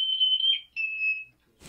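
Parrot imitating a smoke alarm: two sustained piercing high-pitched beeps close by, separated by a short gap, ending with a brief noisy burst.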